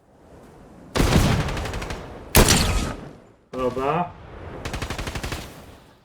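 Gunfire from a sniper rifle in the Fortnite video game: a few loud, sharp shot bursts followed by a rapid run of repeated shots, with someone talking between them.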